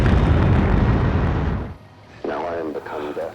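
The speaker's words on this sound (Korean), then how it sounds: "엄청난 빛과 함께 거대한 버섯구름을 형성하면서 제대로 폭발합니다." An atomic bomb test explosion from the film Oppenheimer, a loud, dense roaring blast that fades out and is followed by a voice speaking.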